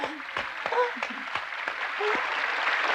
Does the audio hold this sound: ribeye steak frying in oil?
no